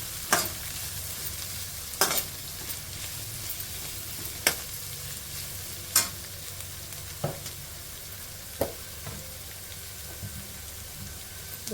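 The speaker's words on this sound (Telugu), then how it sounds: "క్యారెట్, వేసి ఫ్రై చేయాలి." Carrot stir-frying in a hot pan, with a steady sizzle throughout and sharp utensil scrapes and taps against the pan every couple of seconds.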